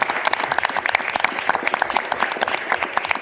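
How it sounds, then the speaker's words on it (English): Dense, close applause from a room at a county board meeting, sustained and even for the full few seconds with no one speaking over it. "So round of applause"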